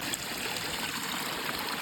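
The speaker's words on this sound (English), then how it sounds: "And I love the sound of running water." A small stream flows along a backpacking trail to Mason Lake in Snohomish, Washington, giving a steady close trickling and gurgling wash with no voices over it.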